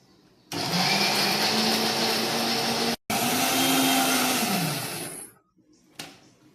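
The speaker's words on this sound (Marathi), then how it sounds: "तो आपला मसाला बारीक करून झालाय सगळं।" A kitchen mixer grinder whirs loudly, grinding onion, coconut, garlic and garam masala with water into a paste; the motor runs steadily, stops briefly near three seconds, resumes, then winds down with a short clatter afterwards.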